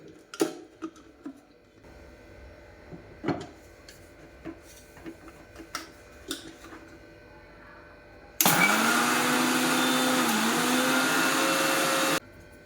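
Sesame seeds and jaggery ground in a kitchen mixer: scattered clatters and knocks first, then a loud, steady motor whir that runs for about four seconds and stops abruptly.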